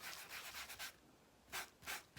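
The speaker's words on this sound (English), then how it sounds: "Okay, so we're just going to keep sanding on this." Short bursts of hand sanding rub across a glittered foam and wood sign, several strokes with a pause in the middle, close and quiet.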